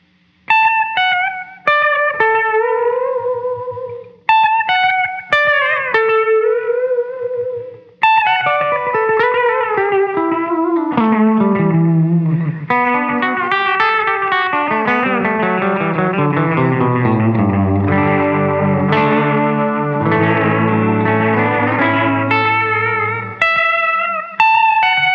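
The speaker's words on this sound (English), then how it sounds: "So the filter is kind of heading more in the high pass direction. A little less feedback, a little less on the mix." Guitar played through an Electronic Audio Experiments Sending V2 echo pedal with modulation and a high-pass-leaning filter, so single notes and descending runs ring out and trail into dense, sustained repeats that stack into a wash; no voices.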